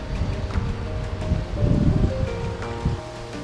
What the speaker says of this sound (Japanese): 川の音が、